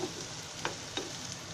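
Thin-sliced bitter gourd (karela) roasts in a little oil in a pan, giving a soft, steady frying hiss with two faint stir taps. Quiet and close, with no talk.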